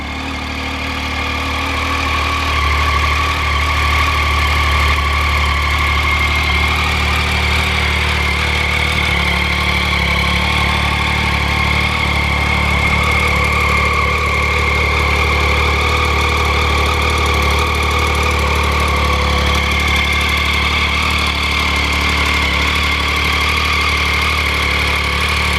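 A Triumph Street Triple motorcycle engine idles steadily and loudly up close, a constant mid-low hum with a slight rumble that holds evenly for the whole stretch, with no talk.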